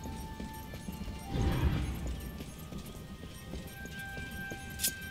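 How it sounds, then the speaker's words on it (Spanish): A horse gallops in the Darksiders II video game, quick rhythmic hoofbeats pattering steadily with a louder rumbling surge partway through, set against game ambience. "quiero llevar el caballo"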